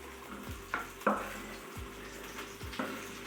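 Chicken meatballs sizzling in a frying pan, with a low steady fry punctuated by several scraping clunks as they are turned, close and alone without talk.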